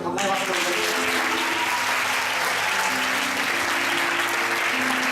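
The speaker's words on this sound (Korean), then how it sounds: "이렇게 감사의 박수를 드립니다." A large church congregation applauds steadily and loudly, dense clapping filling the whole stretch with some voices underneath.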